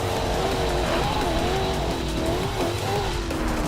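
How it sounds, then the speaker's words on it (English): A high-torque car in Forza Horizon 2 tears off-road through trees, its engine roaring loud and continuous with wavering pitch as it revs, plus hints of tire scrub. "cut off into the trees and pretty much drive as fast as I possibly could through this area"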